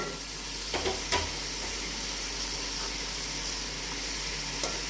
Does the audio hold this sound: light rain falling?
no